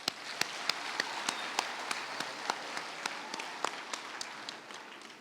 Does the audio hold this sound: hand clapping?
yes